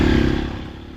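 A Triumph Scrambler 1200 XE motorcycle riding off-road trails in England, its engine giving a close, loud, pulsing rumble that eases off slightly over one second.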